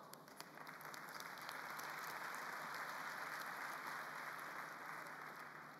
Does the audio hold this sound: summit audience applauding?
yes